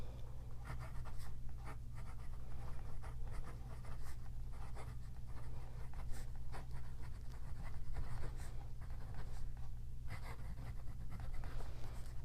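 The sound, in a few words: writing with a Cross Apogee fountain pen, 18K gold nib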